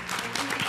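Audience applause breaks out at a Génies en herbe quiz competition in Côte d'Ivoire as scores are shown for CSM de Cocody; a brief, dense wash of clapping fills the moment.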